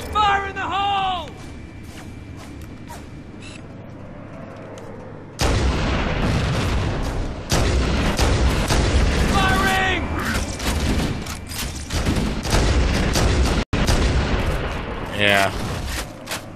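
Heavy Halo gunfire and explosions: dense rattling shots and deep booms fill most of the stretch, loud and close, following a quieter opening, with voices calling out over the battle.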